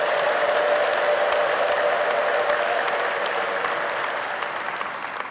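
A church congregation claps loudly and continuously, a dense wash of applause that holds steady and then slowly thins toward the end, with faint crowd voices mixed in.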